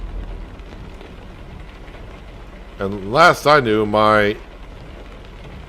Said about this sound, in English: Seems like I've gotten a lot of rain today.